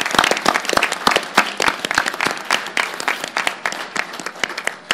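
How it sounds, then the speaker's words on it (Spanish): An audience at a reading-promotion event in Mexico claps loudly and continuously, dense clapping that thins slightly toward the end, with a voice briefly audible underneath. "Un aplauso por favor para todos ellos"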